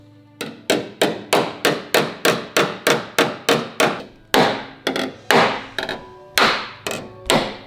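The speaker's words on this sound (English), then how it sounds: "we got to get a hammer and dolly that flat" A hammer and dolly flatten a ridge in the metal body panel of a Toyota Supra under restoration, a sharp ringing strike repeating at a quick even pace, about fifteen blows with short pauses between bursts, loud and close with no talk.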